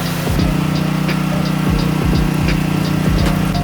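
A Philkin PK200A inverter generator welder's engine runs at a steady idle, a loud, continuous mechanical hum with a faint rhythmic knock and no voices over it.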